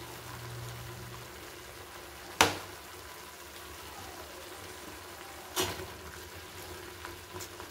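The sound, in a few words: head and trotters mutton frying with onions in a pan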